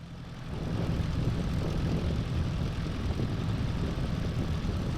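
The engine of a small, all-analog JustFlight PA-28R Arrow III piston plane in Microsoft Flight Simulator fades in within half a second, then holds a loud, steady propeller drone throughout.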